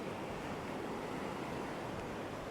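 Strong wind blowing along a beach coastline in Hua Hin, Thailand, a dense, constant roar of wind buffeting and surf-like rushing, loud and unbroken.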